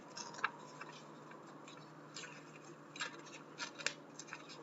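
Paper torn by hand along marked lines while folding an origami transistor, heard as faint, close, intermittent short rips and rustles at a quiet level, with no talking.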